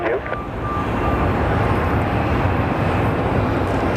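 A Delta Boeing 757 airliner lands at Phoenix Sky Harbor Airport with a loud, steady roar of jet engines and wind rush that holds throughout.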